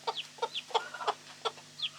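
A hen in a coop gives a run of short, close clucks with a few rising chirpy notes between them, repeated steadily over a faint background hum.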